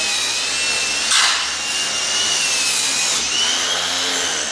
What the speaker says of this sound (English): Give it a light sanding with this buffing brush.